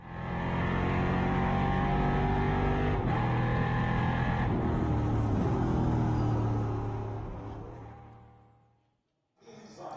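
NASCAR Whelen Euro Series race car with a 5.7-litre V8 of 400 brake horsepower, lapping a 3.7 km circuit: a loud, close engine roars steadily under load with shifting pitch, then fades out near the end before a brief return.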